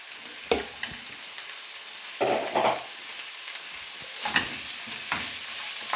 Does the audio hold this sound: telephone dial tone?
no